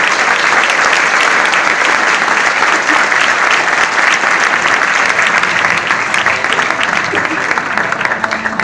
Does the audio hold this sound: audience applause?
yes